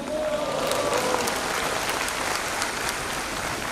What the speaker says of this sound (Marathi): जे लोक आधी टाळ्या वाजवत होते त्यांनी जरा मोठ्यांनी उत्साह दाखवायला हरकत नाही